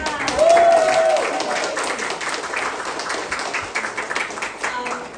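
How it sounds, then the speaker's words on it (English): Audience applause at a book launch and signing event for author Brian Luu, a steady wash of clapping that continues for several seconds and slowly thins out. "Give him a applause again"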